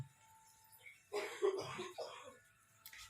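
Two or three soft, quiet coughs in close succession, with faint background noise and no speech.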